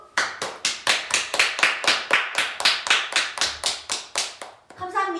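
Steady clapping from a small group rolls on for several seconds in a quick, even rhythm during a Korean K-pop fan livestream, then gives way to a short burst of voice at the end.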